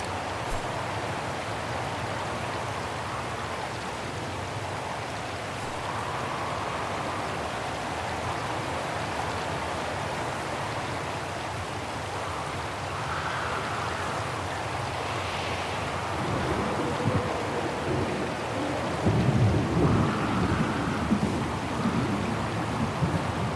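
A rainstorm in the video game Syberia: The World Before, with a steady dense hiss of rain and low rumbling swells toward the end suggesting thunder, continuous and without speech.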